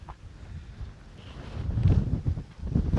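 Strong mountain wind on Mt. Gulugod Baboy buffets a microphone in low rumbling gusts that build louder in the second half, with no voices.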